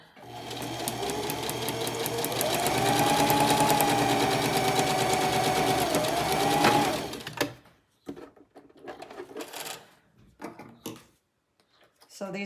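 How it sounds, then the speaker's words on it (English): A sewing machine stitches junk journal pages in one long, steady, close whir for about seven seconds, then stops and leaves quieter clicks and handling sounds. "make sure your press foot's down when you go to sew"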